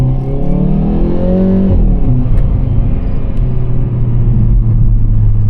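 A 2024 Hyundai i30N, 285 hp, revs hard on a night drive, its engine note climbing in pitch before a gear change drops it back to a steady loud drone, heard close from inside the car.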